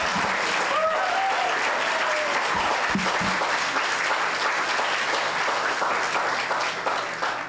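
An audience at an evening author event applauds to welcome writer Casey Cep to the stage, a dense sustained clapping from a crowd that fades slightly at the end, with a brief voice near the start.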